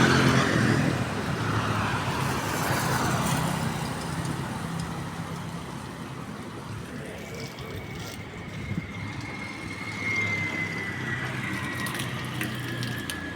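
Water sprays across a car during a wash without soap, a continuous hissing spray close by with shifting mechanical whine and clicks.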